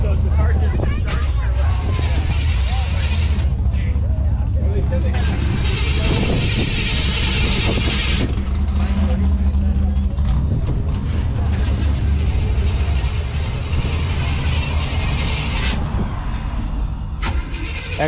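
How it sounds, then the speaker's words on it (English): A classic car's engine starting and running at an outdoor car show in Weeki Wachee Springs, a loud, close rumble that continues throughout, with crowd chatter and voices talking over it. "So the car should be starting"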